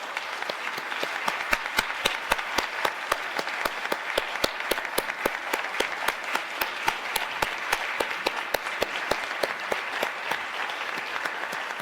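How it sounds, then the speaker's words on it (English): Audience applause for Marquise Stillwell, a 2024 SEGD Fellow, as sustained clapping from a seated crowd, with dense, even, moderately loud claps and sharp individual hits holding steady for over ten seconds. "let's give a round of applause for Marquise Stillwell"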